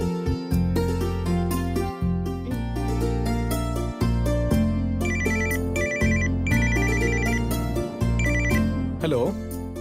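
A telephone rings in a Tamil TV serial home scene, a loud electronic ringtone with a repeated rhythmic pattern that stands out over a background music score.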